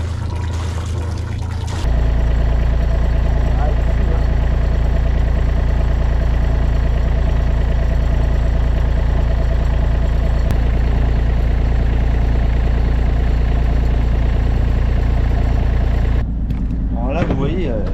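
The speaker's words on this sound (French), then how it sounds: "Le moteur démarre toujours au quart de tour." A sailboat's engine idles at a loud, steady low drone with a throbbing vibration, starting after a short lead-in and cutting off near the end.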